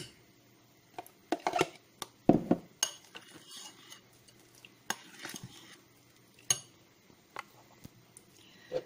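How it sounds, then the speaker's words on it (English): Utensil scraping and tapping against a bowl while an avocado mixture for keto ice cream is slowly mixed, with soft intermittent clinks and stirring sounds, close and quiet. "And now we slowly mix our avocado mixture here."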